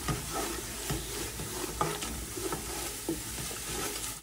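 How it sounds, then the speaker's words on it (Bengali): Ground chilli, coriander and cumin spices sauté in a pan with a soft, continuous sizzle and a few light stirring scrapes, fairly quiet and close, with no speech. "তো মশলাটা আমি একটু ভালোভাবে কষিয়ে নিব"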